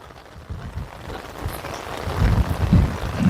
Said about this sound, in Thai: บรรยากาศฝนตกนะพี่น้องโอ้ย